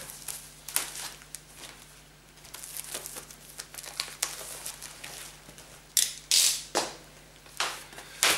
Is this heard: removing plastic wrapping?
yes